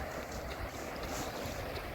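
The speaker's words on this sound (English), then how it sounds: "A little bit windy today" Steady wind buffets the microphone at Catalan Bay beach in Gibraltar, a continuous broadband rush with possible surf mixed in, constant and fairly loud with no talking.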